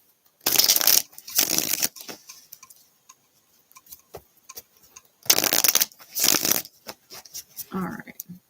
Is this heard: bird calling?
no